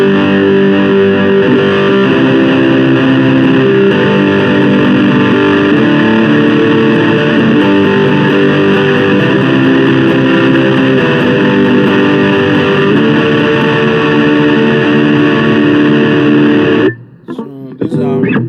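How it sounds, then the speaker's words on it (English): Electric guitar played through a Roland Micro Cube amp set to a heavy distorted metal tone, dense sustained chords and riffs ringing loud and close before cutting off abruptly near the end. "So these are distorted sounds, especially for metal guys."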